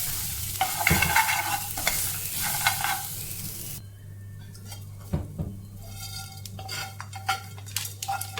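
Drumstick leaves and grated coconut being stirred in a pan, a spoon scraping and clinking against the metal over a light sizzle, in uneven close strokes, with no one speaking.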